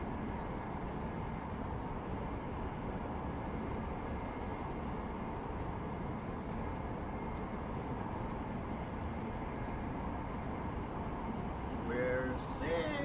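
Steady low rumble of a moving train in Deus Ex: Mankind Divided, a continuous rolling drone with brief faint voice sounds near the end.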